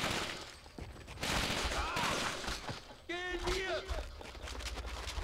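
Rapid bursts of gunfire crackle during a tunnel battle in Call of Duty: Finest Hours, with sharp shots and thuds amid shattering, and a voice speaking briefly over the fight.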